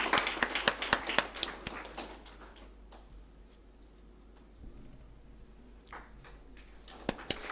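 Sparse, close claps from a small audience at a certificate ceremony for students, a scattered burst at the start that fades into near silence, then a few more claps near the end.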